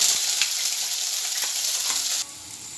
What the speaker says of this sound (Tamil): இப்போது பச்சை வாசனை போகிற வரைக்கும் நல்லா வதக்கியாச்சு.